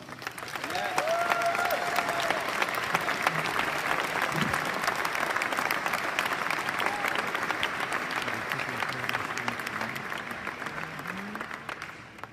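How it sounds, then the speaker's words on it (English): An audience at a launch event in Amsterdam applauds a merchant. The clapping is steady and sustained for about twelve seconds at moderate distance, with a few faint voices under it. "one applause for our merchant"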